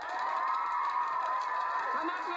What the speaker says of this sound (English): everyone gives her the big cheer